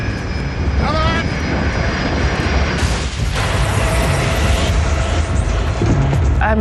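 American Airlines Flight 1420 airliner crashing in a storm, a loud rumbling aircraft roar with sudden bursts of crashing noise and mechanical clatter, shouting voices over it.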